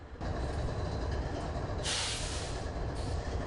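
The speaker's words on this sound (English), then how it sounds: "This thing sits for days running idle, just running, just a constant noise." BNSF train locomotive idling inside city limits, a constant, loud mechanical rumble with a hissing air burst partway through, heard alone without talk.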